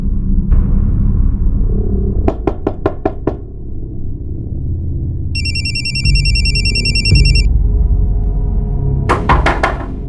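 Telephone ringing in a tense crime drama scene, a burst of high electronic ring tones standing out over steady low background rumble, with knock-like sharp hits before and after.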